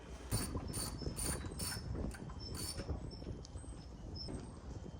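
A ratchet wrench loosens the zinc anode on a fishing boat's stern in a boatyard, giving quick bursts of clicking ratchet strokes at close range over steady background noise, with no talking.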